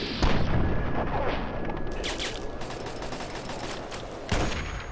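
Video game gunfire from a sniper rifle, with a loud blast at the start and another near the end over a continuous noisy battle din, no talk.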